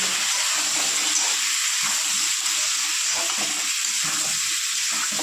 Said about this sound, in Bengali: আলুটা বেগুনটা হালকা করে ভেজে